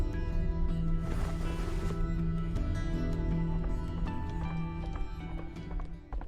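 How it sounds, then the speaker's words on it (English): A swift horse gallops toward the listener in the fantasy video game Black Beacon, with a rhythmic clip-clop of hooves over a sustained orchestral drone and a brief whoosh, the hoofbeats steady and close. "A swift horse is approaching, Your Highness."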